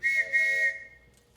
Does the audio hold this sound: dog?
no